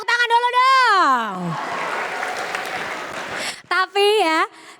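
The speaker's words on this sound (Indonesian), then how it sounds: "Tepuk tangan dulu dong" Audience at a Ramadan customer event breaks into a couple of seconds of broad, hissing applause, framed by an amplified voice speaking loudly just before and after.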